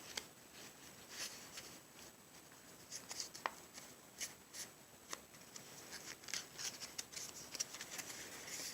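A sheet of paper is folded in half in a classroom lab, giving soft crinkles, rubs and crisp creasing swipes, quiet and close, in irregular bursts.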